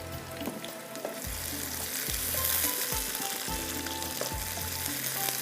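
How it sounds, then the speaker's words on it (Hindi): Onions and masala-coated chicken fry in a pan with a steady, loud sizzle, broken by a few clattering stirs, heard up close with no talking. "प्याज चला जा रहा है इसके अंदर, बस हल्का सा ये फ्राई हो रहा है।"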